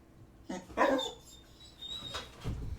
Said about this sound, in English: As you can see, my dog is excited.